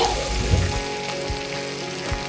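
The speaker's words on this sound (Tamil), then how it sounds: "இலை இவ்வளவுத்தையும் நான் இதுக்குள்ள அப்படியே வதங்க போடுறேன்." Leaves fry in oil in a pan for chicken curry, crackling and sizzling loudly at first and then settling into a steady, close hiss with occasional stir thumps.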